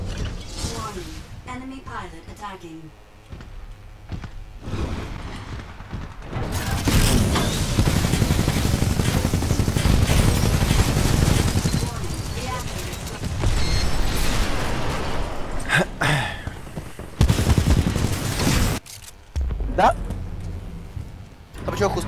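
Dense bursts of automatic gunfire and explosions fill a Titanfall 2 multiplayer match, loud and sustained with brief lulls, while a player talks and laughs over the shooting.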